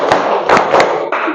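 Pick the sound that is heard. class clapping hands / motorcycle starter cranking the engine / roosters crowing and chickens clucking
class clapping hands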